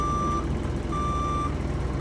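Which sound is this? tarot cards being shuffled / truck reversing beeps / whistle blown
truck reversing beeps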